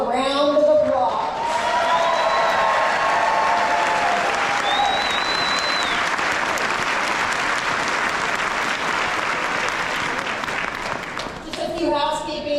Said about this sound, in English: I want all of you to give yourself a round of applause.